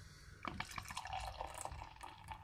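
Porter beer from a 330 ml craft bottle glugs and trickles into a glass, a faint, continuous liquid pour with small bubbling splashes, close by and without talk.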